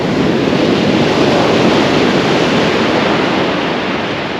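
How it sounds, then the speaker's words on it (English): Big sea swell breaks close to shore on the Holderness coast at Withernsea, a loud, continuous roar of surf and rushing water with wind buffeting, no voices. "It's quite a big swell on there"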